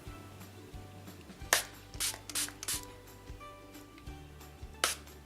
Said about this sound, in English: spray it on my face